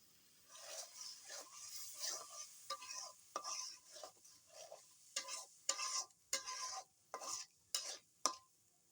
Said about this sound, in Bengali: এখন একটু পানি দিয়ে দিব এর ভিতরে।